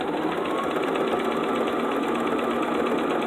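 A sewing machine stitches down a folded fabric border with a fringe, giving a continuous loud even hum and steady vibration that runs unbroken throughout.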